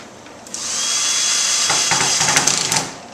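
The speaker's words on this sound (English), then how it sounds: "is to put number 8 by 1 1/4 wood screws, and again a little paraffin to make them go in a little easier" A power drill drives a number 8 by 1 1/4 inch wood screw, waxed with paraffin, into a wooden crosscut sled, one steady whirring run rising in load and ending with a few quick stuttering pulses, loud and close.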